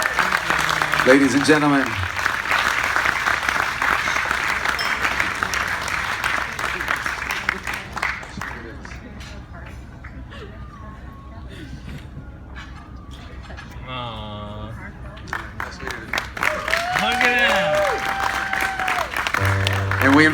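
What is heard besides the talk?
wedding guests applauding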